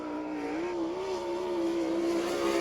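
A race car runs a qualifying lap at a 1999 All Star Circuit of Champions event in Abbottstown, Pennsylvania, its engine holding a loud, steady, high drone with a slight rise in pitch and no talk over it.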